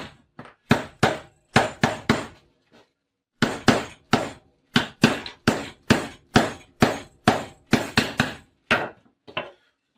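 Hammer blows drive a nail low into a wooden sofa frame being rebuilt from two armchairs: sharp, close strikes in two bursts, each a run of about six to eight evenly spaced hits with short pauses between.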